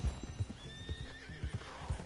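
A horse in camp in Red Dead Redemption 2 whinnies in a long, rising neigh while hooves clip-clop in an irregular rhythm nearby, fairly quiet.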